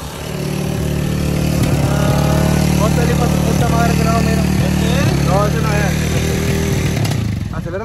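A motorcycle engine running loud and steady near the mic after a struggle to start it, with a low harmonic drone throughout and people talking over it.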